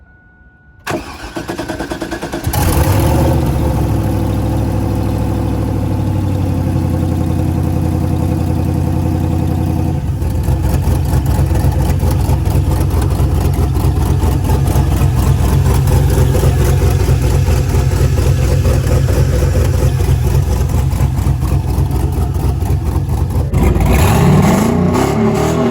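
A turbocharged LQ4 V8 in a 2001 Chevrolet Camaro SS on a dyno cranks and fires, settles into a loud rumbling idle, then climbs in rev for a sustained high-pitched run before dropping back, close and dominant.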